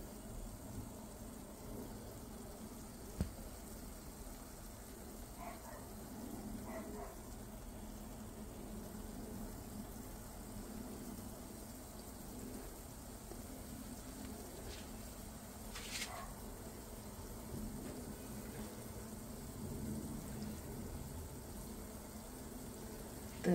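Lentil-batter jalebi frying in hot oil, a soft continuous low bubbling and faint sizzle, quiet and steady, with an occasional small clink.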